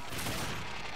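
Gunfire from the video game The Darkness II, a dense steady burst of shots that blurs into a continuous roar for about a second, loud and close with no voices.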